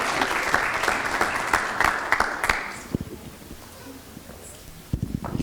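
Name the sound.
applause for students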